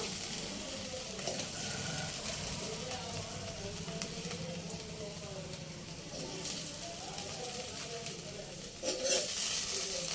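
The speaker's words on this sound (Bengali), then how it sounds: "সামান্য একটু জল তরকাটা খুব ভালো করে হয়ে গেছে এবারে ঢোকলার উপরে দিয়ে দেবো" Water-thinned tempering poured over white dhokla gives a steady, close sizzle with stirring and liquid sounds, while a voice talks over it and a sharper hiss flares near the end.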